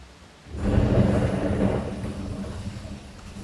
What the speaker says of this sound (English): The pouring rain and whatnot.